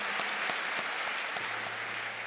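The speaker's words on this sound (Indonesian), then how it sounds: "Tepuk tangan untuk Anda." An audience of new university students at a campus gathering claps, a steady wash of applause with some sharp individual claps standing out nearby.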